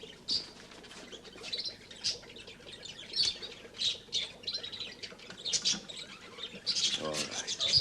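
A pet bird squawks and chirps in short, bright bursts spread across the stretch, fairly close, with some voices and room noise underneath.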